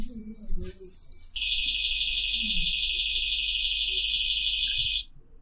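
After some faint background talk, a loud, piercing security alarm tone, triggered by AI camera detection, blares steadily for several seconds, then cuts off abruptly.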